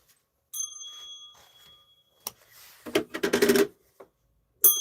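A small bell rings several times in a close, bright burst of rapid jingling, with a few short tings before and a final ring at the end in an otherwise quiet room.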